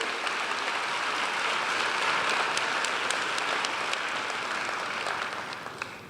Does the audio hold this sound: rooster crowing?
no